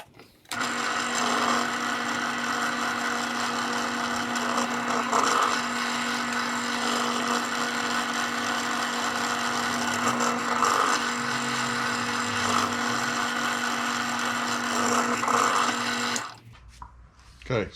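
A drill press bores holes in a wooden roadbed strip for an O gauge model railway layout, a steady motor whine with slight cutting dips that runs continuously, then stops abruptly near the end.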